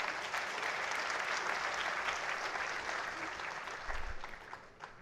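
Convocation audience in a hall breaking into warm, sustained applause, a dense wash of many hands clapping that tapers slightly toward the end.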